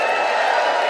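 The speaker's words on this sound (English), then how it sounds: "give me a cheer if you're having some drinks tonight" A comedy club audience cheering and whooping in one steady, loud burst of crowd noise that lasts just under a second.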